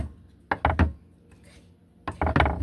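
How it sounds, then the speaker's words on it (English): Two quick bursts of knife chopping on a board, three sharp thunks each, separated by a short pause, close and fairly loud. "So all I'm doing is chopping up"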